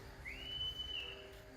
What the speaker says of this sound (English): I heard a whistle somewhere